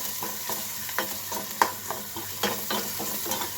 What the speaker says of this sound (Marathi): कांदा जरा थोडा लालसर होईपर्यंत हे करायचं, आळला पाहिजे कांदा.